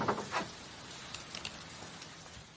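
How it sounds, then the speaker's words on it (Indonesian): Rain falling outdoors, a faint, steady patter with a few sharper drops near the start and scattered soft spikes throughout, no voices. "di luar menunggu hujan reda"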